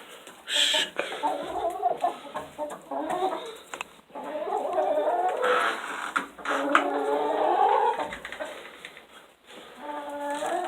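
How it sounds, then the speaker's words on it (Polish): Hens cluck and murmur repeatedly nearby in short bursts, with a few louder squawks among them, busy and close, as they are shooed out of a henhouse. "Tych tylko kury sobie wygonię."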